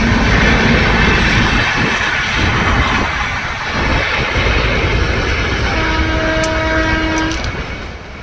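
A Bharat Gaurav passenger train on the Yerraguntla–Nandyal line rumbles steadily close by as it enters a station, with a long horn-like tone sounding near the end.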